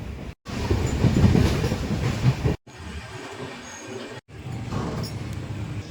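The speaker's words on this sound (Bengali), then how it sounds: "আমাদের ট্রেন এখন এসে পৌঁছে গেছে তমলুক রেলওয়ে স্টেশন" The 22897 Kandari Express from Howrah to Digha rolls along the rails with a loud, steady rumble and clatter of wheels and carriages, broken by a few brief cuts.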